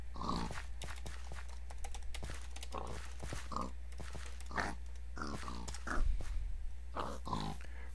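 Pigs grunt and oink in the Minecraft TerraFirmaCraft mod, a string of short, close grunts repeating irregularly over a low steady hum.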